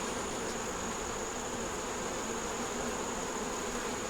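Honey bees buzz in a hive in a nuc box holding pollen and nectar, a constant close droning hum without talk.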